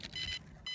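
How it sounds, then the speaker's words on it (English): DJI Phantom drone battery beeping after a crash into water: two short electronic beeps close by, separated by a brief pause, with low background rumble. "It's beeping."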